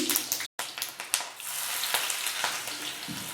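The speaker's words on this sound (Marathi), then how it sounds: "चार चमचे तेल तापवलेले आहे तेल थोडंसं जास्त लागतं ह्या भाजीला मोहरी टाकूया जिरे तीळ" Mustard seeds, cumin, sesame seeds and chili hit hot oil in a pan for a methi vegetable dish, giving a steady close sizzle with scattered sharp crackles and pops.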